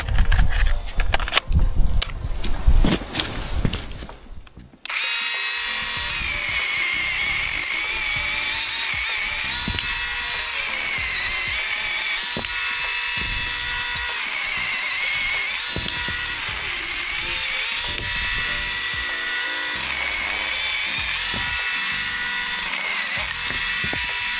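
A small Dnipro-M DMS-201BC cordless chainsaw whines steadily at high pitch, cutting firewood continuously for a long stretch after a brief burst of rough, uneven noise at the start, with light rain falling.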